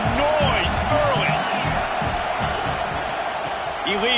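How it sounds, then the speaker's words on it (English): A football stadium crowd roars with sustained cheering and whoops, loud and continuous, with a few rising shouts standing out above the din. "This crowd bringing the energy and noise early."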